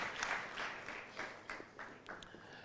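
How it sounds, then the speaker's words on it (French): Audience applause and an ovation at an a cappella singing competition show, a soft, steady patter of clapping that swells and fades over a couple of seconds. "Merci d'applaudir pour Henri Joël."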